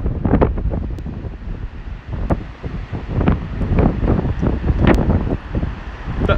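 Heavy wind and rain near Waterloo and the London Eye, a loud continuous roar of wind buffeting the microphone with gusting surges and splashes throughout.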